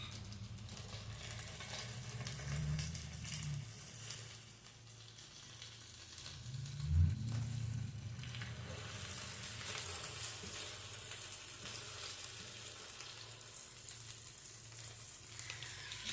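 Food sizzles steadily on a griddle that is not yet fully hot, a constant close frying hiss with a few low scraping thumps from a spatula partway through, and no voices.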